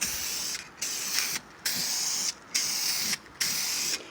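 An aerosol can sprays polyurethane onto a bathroom vanity drawer across the grain in five steady bursts of broad hiss, each under a second long, separated by short pauses, close and fairly loud with no talking.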